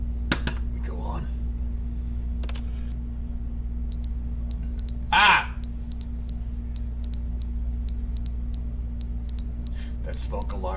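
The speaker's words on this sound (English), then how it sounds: "That smoke alarm battery lasted 380 million years." Smoke alarm beeping in the video game The Stanley Parable: rapid clusters of high-pitched chirps repeating in a steady pattern over a low room hum, with a brief shout partway through and some speech at the start and end.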